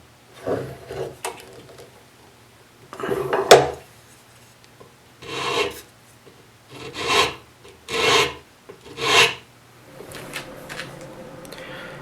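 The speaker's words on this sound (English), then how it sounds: "with this 80 grit sandpaper, it's going to be coarse enough I can just do it by hand" Coarse 80 grit sandpaper rubbed by hand over a walnut wood block for a keepsake box, a series of rough rasping strokes in irregular bursts, close and fairly loud with quiet gaps between.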